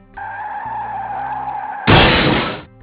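A car skids with a sustained tire screech and then crashes abruptly in a loud burst of impact, the two sounds following each other closely with no talking.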